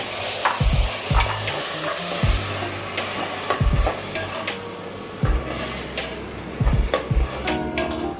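Ground tomato is mixed into frying masala for egg biryani: steady sizzle under repeated, rhythmic scraping and clanking of a spoon against the pan, close up, with no voices.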